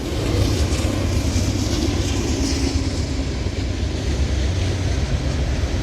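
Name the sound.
Norfolk Southern freight train with hopper cars approaching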